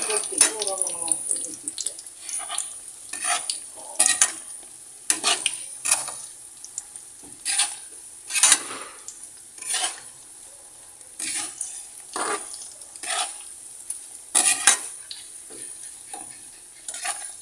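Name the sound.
banana cue frying in a pan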